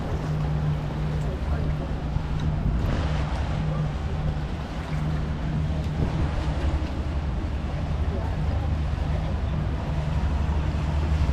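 A boat engine drones steadily and loudly in Venice, Italy, with wind buffeting the microphone and water rushing alongside throughout.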